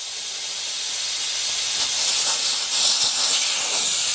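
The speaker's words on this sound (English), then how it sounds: "just let all the air come out" Air hissing steadily out of a car tyre valve while the tyre deflates for a pressure sensor replacement, a loud, continuous close-up rush of air that lasts the whole few seconds.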